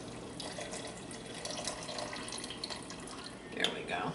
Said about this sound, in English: I'm going to put the broth in